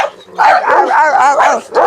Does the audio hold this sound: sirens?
no